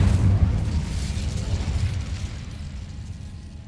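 A fire spell cast in Hogwarts Legacy bursts into a loud, deep whooshing roar that starts strong and slowly fades over a few seconds, with no voices.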